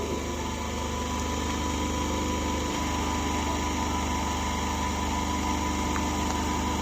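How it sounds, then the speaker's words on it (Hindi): An electric motor in a university electrical machines lab, spinning near 1500 rpm on roughly 380 volts, gives off a steady high whine with a constant hum beneath it, close and unchanging across the clip with no voices. "तो देखिए मोटर हमारी चल रही है"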